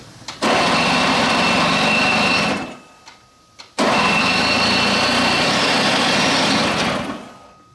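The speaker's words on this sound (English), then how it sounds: "we're gonna just use electric start" A Snapper LE 17 snowblower engine on electric start catches and roars loudly and close, cuts out briefly, then restarts and runs at a high, steady buzz before dropping off, with no speech.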